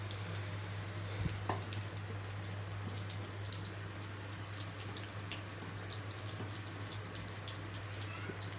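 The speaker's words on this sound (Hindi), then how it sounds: "अब नीचे से फ्राई हो रही है दूसरी तरफ से।" Potato tikki shallow-frying in a pan in a Pakistani village kitchen, a steady dense sizzle with scattered crackles and pops running evenly throughout, close and fairly loud, with a low constant hum beneath.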